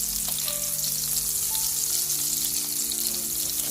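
Tomatoes sizzling steadily in a frying pan as they are flipped for a tomato and egg breakfast, a close, even crackle of hot oil heard alone throughout.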